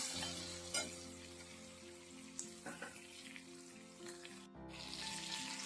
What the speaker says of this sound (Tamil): முந்திரியையும் வெங்காயத்தை லேசை வதக்கிக்கலாம்